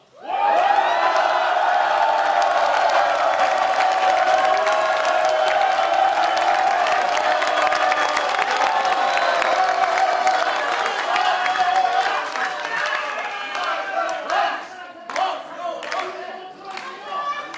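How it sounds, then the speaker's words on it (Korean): Crowd at the launch ceremony of the Future United Party cheering and applauding in a sustained, loud roar of clapping and whoops that thins into scattered claps near the end. "한번 환호합시다"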